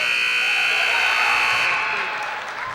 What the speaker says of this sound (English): Shot's good by Kleffer at the buzzer